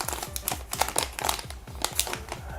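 Packaging of a Matek GPS module being opened by hand, with rapid crinkling and sharp tapping clicks in a busy, close sequence.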